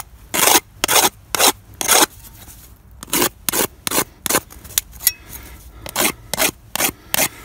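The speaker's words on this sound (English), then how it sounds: "Take my pocket edger, take the edges off." A hand-held pocket edger deburrs the edges of sheet metal parts for a box mount, giving a series of sharp rasping strokes in quick bursts with brief pauses between them.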